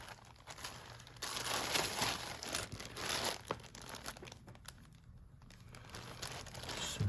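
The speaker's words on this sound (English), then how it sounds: "I'm just gonna rip that off" Paper being ripped off a handmade journal tag, a close, quiet run of crinkling and tearing with short sharp rips and no voices.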